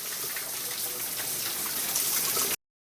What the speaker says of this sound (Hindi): यहाँ प्रकृति का झरना चलता रहता है।